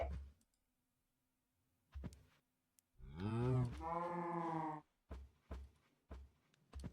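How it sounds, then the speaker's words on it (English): A loud, drawn-out cow moo rises and holds for about two seconds, framed by scattered clicks and thumps before and after. "Man, those cows are loud."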